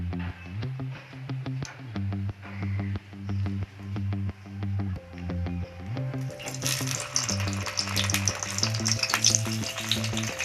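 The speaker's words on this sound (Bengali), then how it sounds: "কড়াইতে তেল দিচ্ছি, তেলটা গরম হয়ে গেলে এতে আমি বেগুনগুলোকে ভেজে নেব।" Eggplant slices frying in hot oil in a wok, first a steady low sizzle with rhythmic stirring knocks, then a loud bright crackling burst of spitting oil, close up and with no voice.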